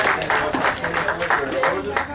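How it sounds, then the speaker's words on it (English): Clapping from a small group of guests at a birthday party, a brisk run of nearby claps mixed with chatter and voices over the top. "Everybody, let's give them a round of applause"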